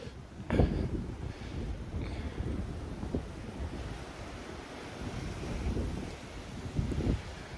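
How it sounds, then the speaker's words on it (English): Strong wind roars and buffets the microphone continuously, with a few sharper gusts rising above the steady rush. "It's really windy."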